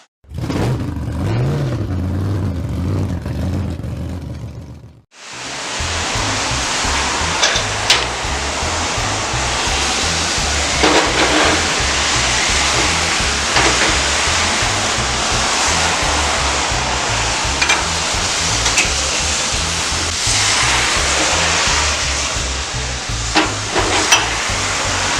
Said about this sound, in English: Go ahead, go cut the rotor.